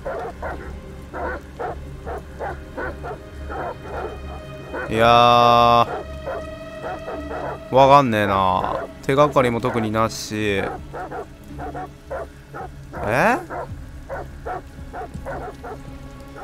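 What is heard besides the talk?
dog barking in Detroit: Become Human video game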